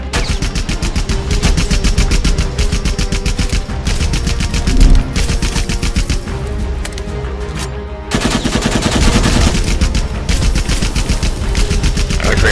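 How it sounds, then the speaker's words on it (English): Sustained rapid machine-gun fire from the Rambo video game, loud and dense bursts running almost continuously, with a brief lull near the middle before the shooting resumes at full intensity. "Alright, Kramer, stop shooting!"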